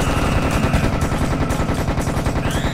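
Rapid, relentless machine-gun fire from the co-op shooter Serious Sam Second Encounter, loud and close, with dense overlapping shots hammering without pause and no talk over it.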